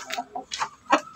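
Chickens outdoors on a Filipino backyard farm, including breeding stock, give several short, close clucks in quick irregular bursts.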